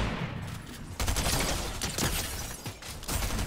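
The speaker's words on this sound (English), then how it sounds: "I'm gonna have to shoot him." Rapid rolling volleys of gunshots in the video game Fortnite, several loud bursts in quick succession filling the short stretch, without any talking over them.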